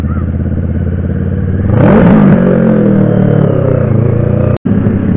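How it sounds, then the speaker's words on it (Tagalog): Kawasaki Ninja 650 (NK650) motorcycle engine revving up sharply around two seconds in and holding a loud, smooth rising drone with auto-blip response, close and continuous apart from a brief dropout near the end. "Dito ko lang din natutunan tong auto blip. Sarap pala talaga sa tenga, at saka smooth nung response ng makina."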